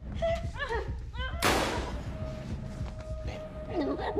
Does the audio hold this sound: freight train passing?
no